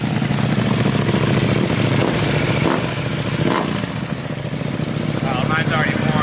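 A 2025 Yamaha MT-07 fitted with an Akrapovic exhaust rumbles steadily up close, holding a dense, continuous engine note throughout.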